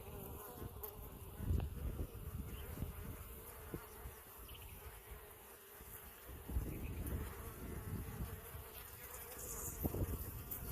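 A honey bee swarm hums steadily around a hive, a dense low buzzing drone close by with swelling surges and fading, no voices over it.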